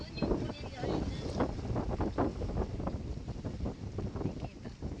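Strong wind at a seawall buffets the microphone in heavy gusty rumbles, and faint voices are heard beneath it.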